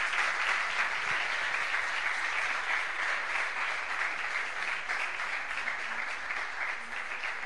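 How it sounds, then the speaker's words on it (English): Applause fills an awards ceremony for a retro game development contest as a winner is called up for a prize, a dense, steady crowd clapping heard from somewhat far back with little variation. "Big applause and come here to get your prize."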